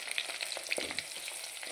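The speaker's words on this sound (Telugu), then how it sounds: "ఆనియన్స్ మంచిగా ఫ్రై అవ్వాలి." Cubed onions fry in a pan with a steady close crackling sizzle and light spattering pops, with no talk.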